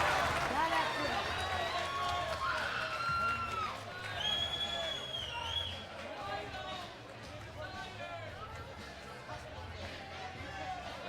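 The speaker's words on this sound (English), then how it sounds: "the crowd here for Santos is getting into it as well" A boxing crowd cheers and roars for Santos during a fight, a steady, dense mass of voices and whistles with scattered shouts throughout.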